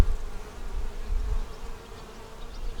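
Honeybees buzz steadily around an open beehive during an inspection of a double deep nuc, a close, continuous, wavering hum with low rumble and no speech.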